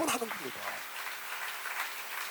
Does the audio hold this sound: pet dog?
no